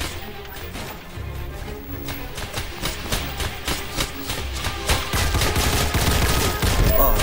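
Rapid gunfire crackles through a multiplayer shooter video game, dense bursts of automatic fire and overlapping shots layered over a constant rumbling battlefield din, loud and sustained throughout.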